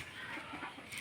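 A domestic hen on a farm gives soft, low clucks, faint and scattered against steady outdoor background noise, with no one speaking.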